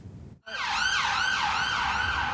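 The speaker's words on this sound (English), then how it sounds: "The sounds of sirens are all that can be heard on London's eerily quiet streets." A wailing emergency siren starts abruptly and sweeps up and down continuously on quiet London streets, loud and fairly close, over faint background noise.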